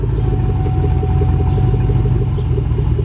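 A 2003 Chevrolet Tahoe 1500 runs steadily during a transmission test, a loud, close, low engine rumble with a faint pulsing throb and no speech.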